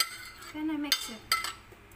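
Fruit salad of apple, grapes and cheese gets stirred in a bowl, with a couple of soft clinks and scrapes of a utensil against the dish, close and quiet, and a voice briefly heard.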